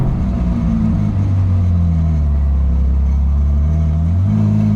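A Novitec-tuned Ferrari 812 N-Largo S rolls through Rotterdam city streets, its engine a steady, loud low rumble with a slight rise in revs near the end, close by and continuous.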